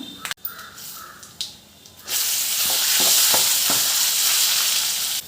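Amla chutney dropped into a hot oil tempering of lentils, cumin, mustard seeds, dried red chillies and curry leaves, bursting into a loud, steady sizzle after a few quiet clicks and stirring sounds, close and continuous.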